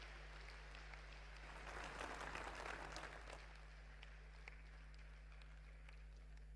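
Faint, quiet clapping from an audience at a prime minister's speech in Kurukshetra, Haryana swells briefly and then tapers off under a steady low hum.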